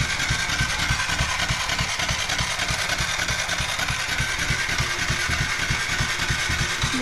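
A Kawasaki KLX 110 small dirt bike engine runs steadily nearby with an even, low, pulsing putter throughout and no clear revving.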